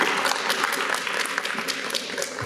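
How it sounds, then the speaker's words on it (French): Audience applause for volunteers and organizers at a community gift-basket event, a dense, steady clapping close by that carries on evenly without a break. "Donc une grosse main d'applaudissements à vous."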